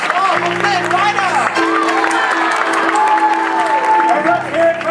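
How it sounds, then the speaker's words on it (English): Audience applause and cheers for Princess Rapunzel at Disneyland's Tangled show in Fantasy Faire, a steady crowd wash lasting throughout, with sung or spoken voices and music over it. "a royal round of applause for Princess Rapunzel"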